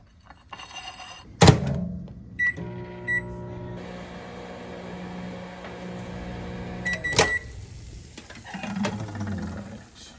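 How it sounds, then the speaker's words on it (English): A microwave oven heating a spinach and sour cream dish hums steadily for several seconds. Short electronic beeps and a thunk of the door mark the start, and the cycle ends with another clunk and beep. "And then we're gonna microwave it."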